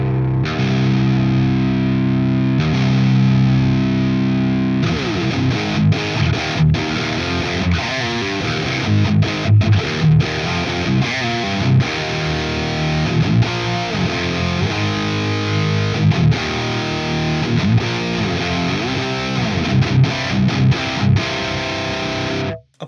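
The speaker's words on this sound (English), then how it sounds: "I think I want to add a boost first, so we'll go into the overdrive section" An electric guitar plays through a Quad Cortex unit with a Vemural Ray overdrive boost, giving a loud, continuously distorted tone of sustained chords and shifting notes that fills the whole stretch before stopping abruptly.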